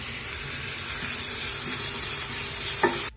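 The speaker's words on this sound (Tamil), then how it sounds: "வெங்காயத்தாள் போட்டுக்கலாம் ஃப்ரெண்ட்ஸ். வதக்கிக்கலாம்" Spring onion greens and garlic sauté in a hot pan for a spicy egg dish, giving a steady, close sizzle with soft stirring, ending in a brief clatter before cutting off.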